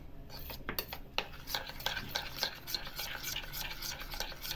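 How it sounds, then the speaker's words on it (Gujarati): A spoon stirs ghee and wheat flour together in a small bowl for namak para dough, giving quick, close, repeated scraping clicks in a steady rhythm. "3 ચમચી ઘી લીધેલું છે, તેમાં 1 ચમચી લોટ લેવાનો। હવે તેને બરાબર મિક્સ કરી દેવાનું આ રીતે"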